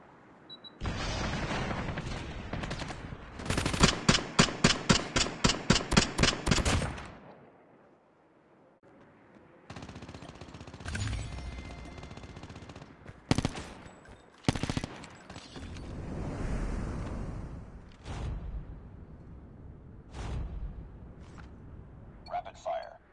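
Rapid automatic gunfire in Call of Duty Mobile comes in loud, close, fast-repeating bursts, first a long rattling string and then scattered volleys and booms, with a voice talking over parts of it.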